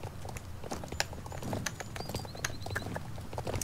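Horse hooves clip-clop in a steady, quick rhythm in the online riding game Star Stable Online, fairly quiet and mixed with light chirping and game ambience, with no talking.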